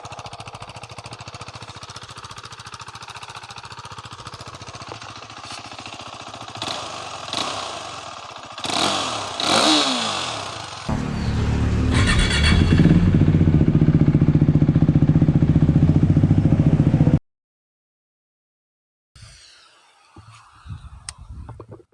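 KTM RC 390 motorcycle with the dB killer removed from its exhaust, revving in sharp bursts that build to a loud, sustained roar before cutting off abruptly, followed by a quieter return of engine sound close by.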